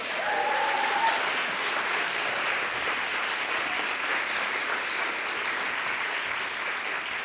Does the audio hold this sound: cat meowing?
no